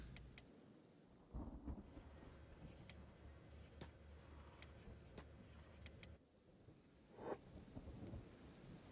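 Soft rain hisses steadily in the video game Kenshi, with low thunder rumbles rolling underneath, all quiet and with no voices.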